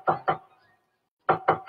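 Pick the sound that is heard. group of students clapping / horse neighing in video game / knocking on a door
knocking on a door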